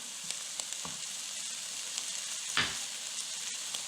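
Peppers sizzling in a hot pan with spices for Zambian cabbage with pork, a steady close frying hiss with a few sharper crackles and a stirring scrape.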